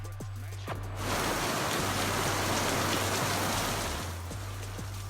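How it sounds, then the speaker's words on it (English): Heavy rain from tropical storm Alberto on the Florida Gulf Coast, a dense steady roar of downpour on surfaces that swells louder through the middle, with a low hum beneath. "So far, heavy rain seems to be the worst of it"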